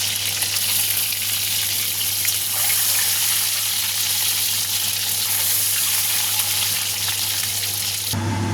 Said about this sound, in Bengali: ওই তেলটাকে আমি একটু ভালো করে গরম করে নিয়ে এবার ডিমগুলো ছেড়ে দেবো।